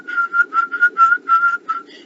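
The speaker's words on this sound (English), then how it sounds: "could you carry a whistle around your neck?" A run of about eight short, shrill whistle blasts in quick, uneven rhythm, close and loud.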